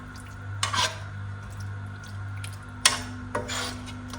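Tofu curry being stirred in a pan, with a few scraping, rubbing strokes of a utensil against the pan bottom separated by quieter gaps, close and moderately loud over a steady low background hum.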